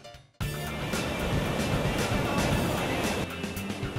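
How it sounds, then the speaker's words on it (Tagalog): Loud churning water driven by the motors of a surf wave machine, a dense steady roar that starts abruptly and fades slightly near the end, with no talking. "Ang mga motor sa loob nito ang nagbibigay ng malakas na agos."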